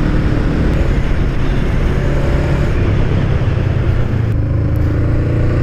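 A 2017 Honda Rebel 500 motorcycle engine drones steadily while riding, a loud, continuous low rumble with wind noise and no talking.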